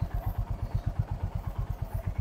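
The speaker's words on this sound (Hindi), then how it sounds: "बाइक स्टार्ट है, फर्स्ट गियर में है, हमने धीरे धीरे क्लच छोड़ा" A motorcycle pulls away slowly in first gear with the clutch eased out, giving a quiet, close, even chugging of low engine beats at a steady rhythm.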